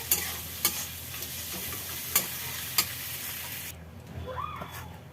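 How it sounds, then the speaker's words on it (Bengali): Crushed fried fish head frying with onion in a pan of oil, a steady loud sizzle broken by a few sharp scraping stir strokes that cut off abruptly near the end, leaving a faint low rustle. "দিয়ে একসাথে একটুখানি ভাজবো পেঁয়াজটার সাথে"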